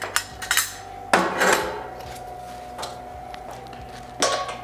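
Sharp metallic clanks and taps from a wrench loosening a fitting on a dirty beer keg, a few separate knocks spread out over a steady faint hum.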